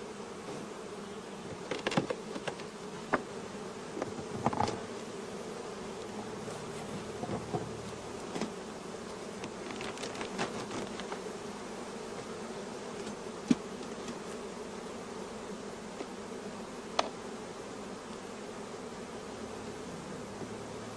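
Honeybees hum in a steady, fairly faint drone while brood frames are handled at an open hive, with scattered small knocks and taps over the buzzing.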